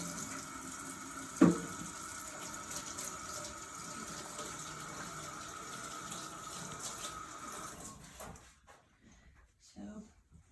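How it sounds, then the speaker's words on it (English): Hands being washed under a running kitchen tap while cooking, a steady close water stream with a splash early on, then the flow stops and only faint sounds remain. "I think I cooked everything I could, so I'm gonna wash my hands."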